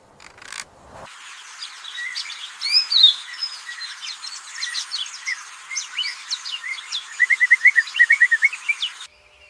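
A young canary, a juvenile bird, gives thin high chirps and tweets, with scattered calls that end in a quick rhythmic burst of repeated notes, fairly close and alone in a quiet setting.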